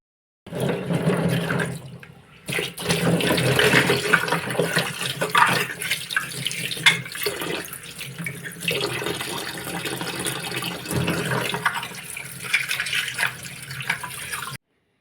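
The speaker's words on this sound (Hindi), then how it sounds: "अब दिया हम निकाल लेते हैं पानी से।" Clay diya lamps being lifted out of a basin of water during Diwali preparations, with continuous sloshing, splashing and dripping close by, broken by a brief pause early on.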